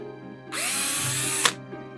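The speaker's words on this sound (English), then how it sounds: "maybe I'll just use a 1/4" drill bit for this part" A power drill with a 1/4 inch bit whines up and bores into a pumpkin, a loud, steady burst of about one second that cuts off sharply, with quiet room sound before and after.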